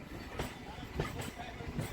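A MEMU train at Kharagpur Junction, with faint, rhythmic wheel clatter over rail joints in a steady low rolling noise.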